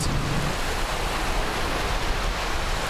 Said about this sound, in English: Crashing waves is really all you heard along the Texas Dike on Sunday.